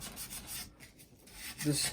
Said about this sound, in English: I'm gonna keep sanding this down